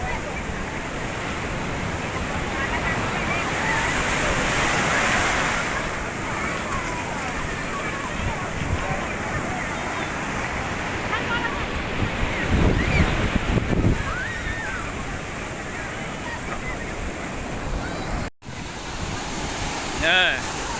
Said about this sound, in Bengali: জোয়ার চলছে। সমুদ্রের জলের স্রোতটা অনেক বেশি